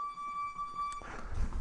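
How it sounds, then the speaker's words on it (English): A workout interval timer at a home Muay Thai session gives a single steady electronic tone lasting about a second, then cuts off and leaves rustling and movement noise. "I'm going to set a 3-minute timer"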